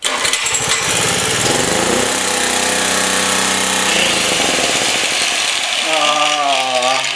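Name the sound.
Generac G-850 generator with Kawasaki engine running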